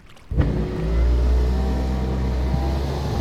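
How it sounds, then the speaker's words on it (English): A car window motor whirring as the glass opens and closes, reused as a sound effect: a steady low mechanical hum with a rising whine that starts abruptly and holds for a few seconds, fairly loud and close. "I nicked that from the opening and closing of a car window"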